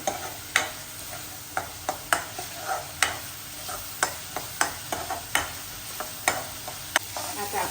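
A tomato tempering sizzles in oil until the oil separates, for Vidarbha-style shingole, while a spoon scrapes the pan in regular rhythmic clicks, with no one talking.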